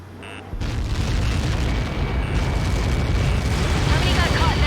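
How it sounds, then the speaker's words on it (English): Large missile impact explosion in the combat flight game Ace Combat 7: a loud, sustained rumbling blast that swells after a short lead-in and keeps roaring with heavy low-end debris noise to the end. "How many got caught in that explosion?"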